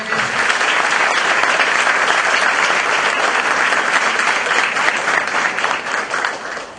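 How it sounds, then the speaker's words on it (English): A large audience at a college event in Mumbai claps loudly and continuously, a thick, even roar of hands close by with no break, tapering slightly at the very end. "Can we all clap for the management of this lovely organization?"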